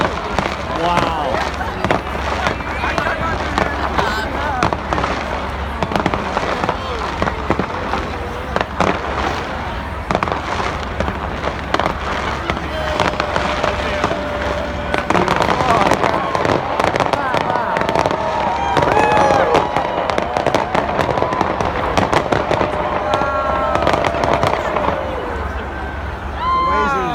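New Year 2016 fireworks over Nathan Phillips Square: a dense, continuous barrage of crackling bangs and pops, with a crowd around it cheering and people nearby talking throughout.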